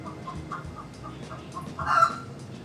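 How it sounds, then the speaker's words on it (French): Recorded hen clucks play over fake chickens above the eggs in a Toronto supermarket aisle, a few soft, short clucks and a louder squawk near the end, faint against store background noise. "Ici ils ont même des bruits de poules,"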